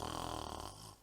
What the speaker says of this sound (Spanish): el aire es expulsado en forma de ronquido